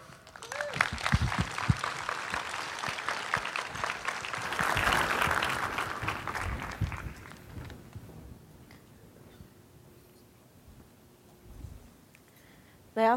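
Audience at an OSCON 09 conference talk breaks into strong, dense applause that swells for several seconds, then tapers to scattered claps and near quiet.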